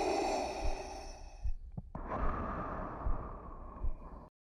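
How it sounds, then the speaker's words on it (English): Heavy mechanical breathing from the Revenge of the Sith film: a slow series of deep, rasping inhales and exhales over a rumbling soundtrack, with a brief pause in the middle before the rhythmic breaths resume. "There's the breathing."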